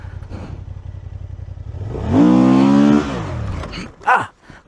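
A Honda Transalp 750 motorcycle engine revs hard during a sliding U-turn, rising to a loud, sustained roar for about a second, then dropping back to idle with a short blip at the end.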